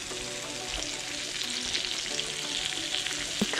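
Porgy fish fried in a pan with semolina over a low flame, a soft, even sizzle with faint crackles throughout, close and steady.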